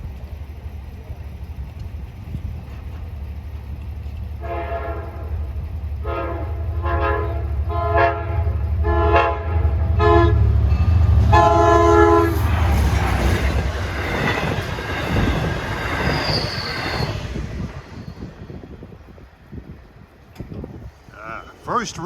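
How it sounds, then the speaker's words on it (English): A Long Island Rail Road train led by a DE30AC diesel locomotive approaches with a rumbling engine and sounds its horn in several loud blasts, then rolls past with clattering wheels and fades away. "This train will have DE 30 AC 411 on the point."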